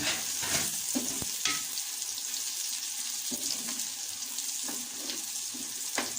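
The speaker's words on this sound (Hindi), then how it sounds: "अब हम इसमें सब्ज़ मिर्चें ऐड कर देंगे और इसे भी 1 मिनट तक फ्राई कर लेंगे।" Green chillies fry in a pan of oil with a steady, faint sizzle, broken by the sharp scrapes and clicks of stirring, alone without any talk.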